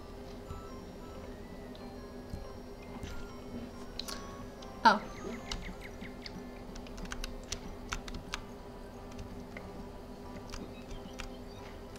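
Computer keyboard typing during a Toontown game session, a steady stream of quiet, close key clicks with a few sharper taps and one louder knock, running alone over a faint background hum.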